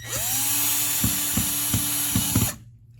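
Screws driven into the bottom board of a Mastermind PBC/6X, with a motor whine and a run of short ratcheting clicks at regular intervals before it stops abruptly.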